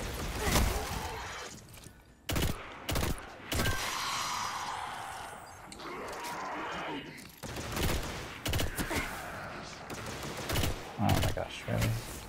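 Destiny 2 weapon fire, including hand cannons, cracks in scattered bursts and single sharp shots over a busy game soundscape, with a voice talking at moments in between.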